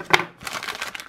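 Packaging crinkles while a small parcel is unpacked, a sharp crackle followed by a run of softer rustling and crumpling close by.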